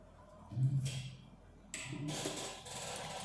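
A sewing machine stitching a wrap dress, its mechanical whir rising in two short runs with a pause between, close and fairly quiet.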